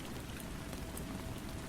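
Steady rain falling, a dense even hiss of drops pattering without a break, soft and continuous with no voices.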